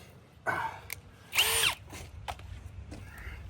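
Bosch power drill driving a screw, several short whirring bursts with one longer rising run in the middle, close and loud against a quiet background.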